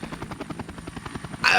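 A helicopter in the Vietnam-era video game Air Conflicts Vietnam, its rotor beating in a fast, even rhythmic chop with a short burst of noise at the end.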